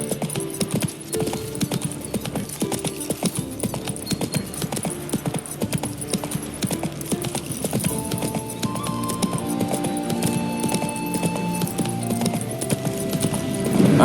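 Roach, the horse in The Witcher 3, gallops in a fast, steady rhythm of hoofbeats that carries on without a break under swelling ambient game music.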